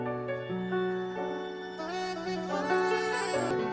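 A short chop of the sample plays alone as a bright, sustained tonal music loop, its chord shifting several times across a few seconds with no voice over it.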